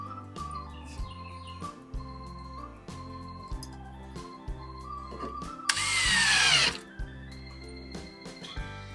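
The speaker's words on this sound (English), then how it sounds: "I went ahead and pre-drilled these so it doesn't split my little blocks here." A power drill pre-drills holes in small wooden blocks in a short series of whirring bursts, with one longer, harsher burst partway through.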